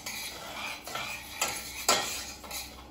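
Risotto rice being stirred into olive oil in a small saucepan, with a utensil scraping and clinking against the pan in several light strokes over a low background hiss.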